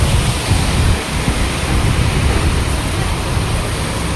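Steady, dense rain pours down in Rajkot as a continuous broadband wash of hiss and patter, loud and close, with no voices.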